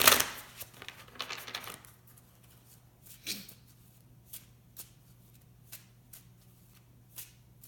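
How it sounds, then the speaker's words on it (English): A crystal oracle card deck is shuffled by hand in a quick burst of riffling, followed by a few soft, scattered taps and card handling noises in a quiet room. "And then we're going to pull a card from the crystal deck."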